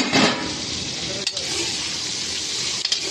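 Food stirred and frying in a pan just uncovered after a short covered simmer, with a steady close sizzle, a loud burst of frying at the start and a few brief clinks of the utensil against the pan.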